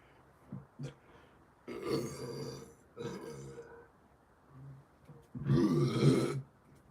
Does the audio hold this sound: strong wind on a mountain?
no